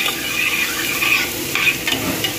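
Six medium onions sauté in a pan as the base for beef goulash, giving a steady, close sizzle and frying crackle with a few stirring scrapes throughout and no voices.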